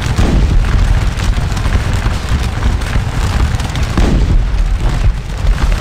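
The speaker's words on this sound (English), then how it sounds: "Volley fire." Dense, continuous booming musket volley fire from the Napoleonic Waterloo battle game Scourge of War, a loud sustained roar of overlapping shots with no clear gaps.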